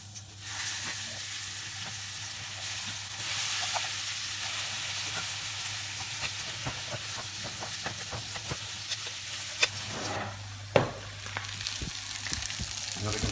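Rabbit saddle parcels sizzle and fry in a generous amount of butter in a pan, a steady close crackle with scattered pops and a sharper spatter near the end, no talking.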